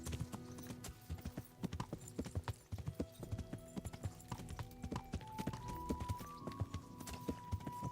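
Horse hooves clip-clop steadily in the video game Kingdom Come: Deliverance, in a quick, irregular rhythm, close and clear, with a faint whinny-like tone drifting in later.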